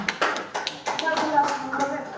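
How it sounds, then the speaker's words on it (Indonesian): Scattered hand claps from a small classroom group during a math micro-teaching lesson, a few sharp taps ringing out briefly with a voice speaking over them. "Ya, tepuk tangan"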